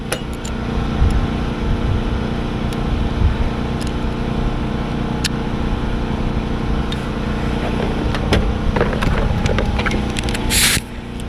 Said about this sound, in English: Use a wire brush or wire wheel.